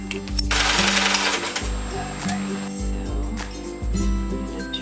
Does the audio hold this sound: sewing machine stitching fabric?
yes